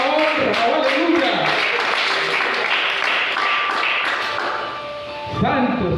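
A church congregation claps and taps together during a Spanish-language service, a dense continuous patter of hands that fades slightly before a voice returns at the end.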